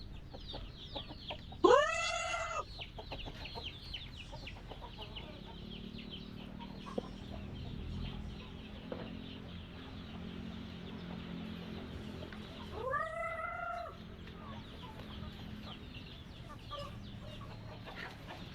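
Native chickens in a backyard flock, two loud rooster-like calls standing out over quiet scattered clucking and soft background noise.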